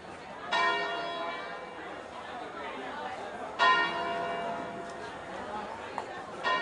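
Funeral bell of St Michael's Church tolling at the start of a demonstration, two clear strokes several seconds apart with long ringing decay, over a faint murmur of a crowd outdoors.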